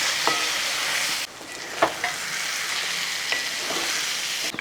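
Egg fry (mutta varaval) is stirred in a hot pan, a continuous loud sizzle broken by a few scraping strokes of the spoon, heard up close with a brief dip in the frying noise partway through, no voices.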